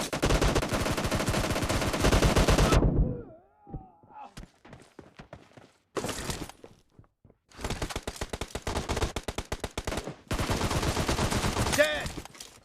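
Repeated gunfire from the PUBG Mobile Team Deathmatch library map, with loud dense bursts of rapid shots separated by brief quieter gaps with scattered single reports, close and dominant throughout.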